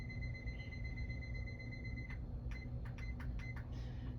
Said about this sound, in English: I'm gonna turn around and set my timer again